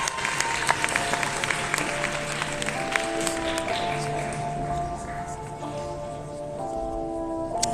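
A crowd at a cosplay contest final applauds a contestant steadily and loudly throughout, a dense wash of clapping with music playing underneath.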